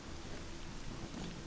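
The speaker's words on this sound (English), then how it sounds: "From sunny to raining in a second." Rain falls steadily in S.T.A.L.K.E.R.: Clear Sky while thunder rumbles low underneath, a dense, even wash of in-game storm weather with no voices.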